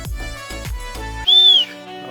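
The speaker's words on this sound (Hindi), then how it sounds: "सीटी की आवाज़ सुनते ही वापस आ गए।" A person's whistle to call back free-flying pet Indian parrots outdoors, one clear rising-and-falling tone lasting about half a second after several soft thumps and noises.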